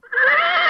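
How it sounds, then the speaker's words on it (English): A horse whinnies loudly and close, a single sustained neigh dropped in as a comic sound effect, with a short quieter lead-in before the full call. "my pet horse is laughing at you"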